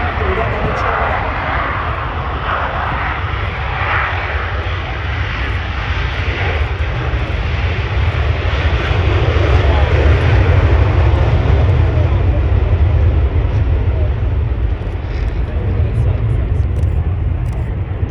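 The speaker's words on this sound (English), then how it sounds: "If everybody looks to the right, you can see the F-16." An F-16 fighter jet flying at an air show in Abbotsford, Canada, a loud continuous jet engine roar that swells and holds steady throughout, with an announcer talking over it.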